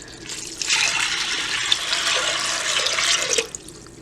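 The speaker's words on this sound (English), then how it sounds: "I'm going to go ahead and give these a really, really good rinse" Running water pours over dried beans in a strainer for a rinse, a steady close hiss and splash that starts abruptly and stops after about three seconds.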